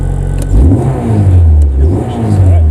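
A Honda Civic EF engine, just repaired after a fuel leak, cranks and fires, then settles into a steady idle with a few light revs. The sound is close and loud, with no talking.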